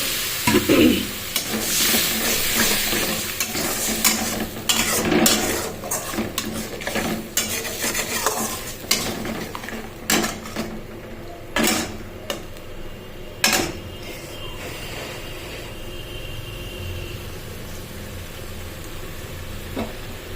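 A spoon stirs mustard and poppy seed paste in a hot pan with water added, giving steady sizzling frying with repeated metallic scrapes that thin out toward the end.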